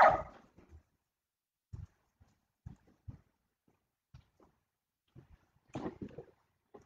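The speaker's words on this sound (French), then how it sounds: "ils aboient comme des tarés dehors" Dogs barking outdoors: a few sparse, muffled barks and thumps spread out over several seconds, faint and distant with near-silence in between, plus a louder burst at the start.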